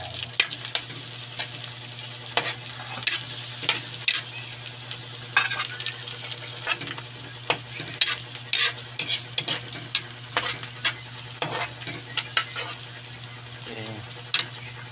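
Garlic sautéing in a pan while cooking chicken with pineapple tidbits, a constant sizzle with frequent quick spatula scrapes and taps, close-up, under a low steady hum.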